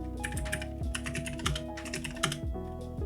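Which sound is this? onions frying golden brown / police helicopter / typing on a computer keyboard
typing on a computer keyboard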